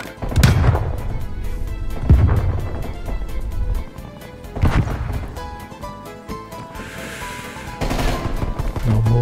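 Rapid gunfire in the Call of Duty video game, bursts of automatic shots and heavy thuds ringing out loud and close amid a dense, busy game mix.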